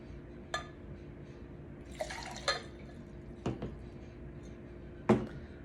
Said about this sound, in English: So let's go ahead and pour.